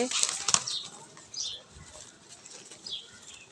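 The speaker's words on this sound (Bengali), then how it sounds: "এখন কবুতরকে খাবার দিব আর কবুতর মাসাল্লাহ এখন অনেকগুলোই" A few quick bursts of wings flapping close by, loudest at the start, then softer fluttering with faint chirps.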